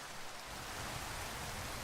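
Rain in the video game Minecraft: a dense, steady hiss of falling rain, even and continuous throughout with no voices.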